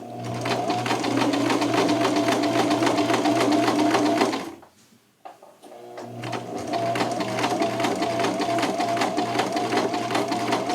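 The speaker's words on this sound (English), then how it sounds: "you want to sew at a steady pace so that the needle doesn't skip any loops." A sewing machine stitches a slim fit shirt at a steady pace, its loud, continuous mechanical whir and rapid needle chatter running for about four seconds, stopping briefly, then starting up again without any talk.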